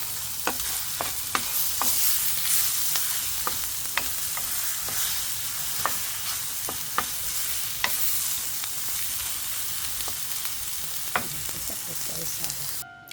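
Bitter gourd (ampalaya) with egg frying in a pan, steady close sizzling with repeated sharp clinks of a spatula stirring against the pan.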